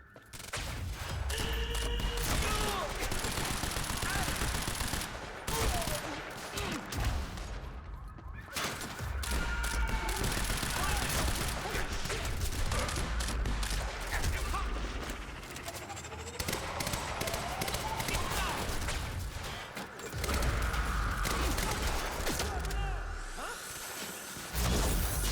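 A sustained firefight in Quantum Break, with dense, rapid gunfire that keeps crackling and popping almost without pause, broken by brief lulls and whooshes, and shouting voices now and then.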